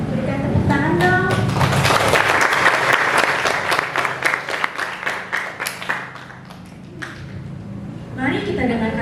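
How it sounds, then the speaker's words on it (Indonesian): A school Christmas service audience bursts into loud, dense clapping that thins into scattered claps and fades, with voices speaking over it at the start and end. "Berikan tepuk tangan dong"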